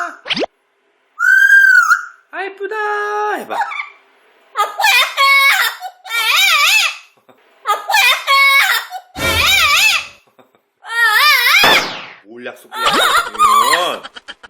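An Amazon parrot shrieks and squawks in a run of loud, harsh calls, some rising and warbling, separated by short pauses.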